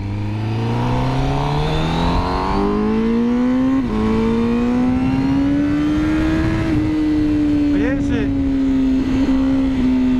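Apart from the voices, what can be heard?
Honda CBR1000RR-R SP 2020 motorcycle engine revving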